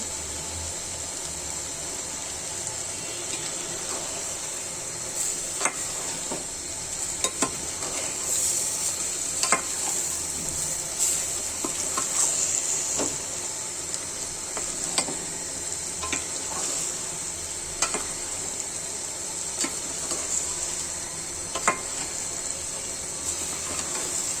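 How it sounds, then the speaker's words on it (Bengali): Broiler chicken fries with spices for a curry cooked with ash gourd peel paste, stirred in a pan. A continuous close sizzle runs throughout, broken by regular scraping stir strokes, with no talking. "মাংসটা আমার প্রায় সিদ্ধ আসছে ভাজা ভাজা করতে করতে মশলার সাথে"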